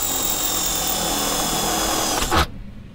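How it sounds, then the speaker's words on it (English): A power drill bores holes through the metal of a Nissan 370Z bumper area, a loud steady high whine throughout that ends abruptly with a brief clunk, no talking. "Once you're done drilling the holes"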